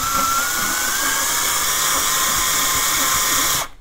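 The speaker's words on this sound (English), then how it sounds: "So this is how you would actually end up drilling this in the field." A power drill bores steadily into an ACE II tubular padlock, a loud continuous high-pitched whine with a slowly rising tone that runs for several seconds, then cuts off abruptly near the end.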